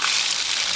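Water running from a newly installed outdoor hose bib at a well house, a steady broadband rush that holds even and fairly loud throughout, with no voices.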